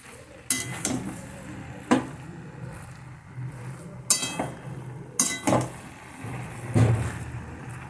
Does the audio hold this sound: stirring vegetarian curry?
yes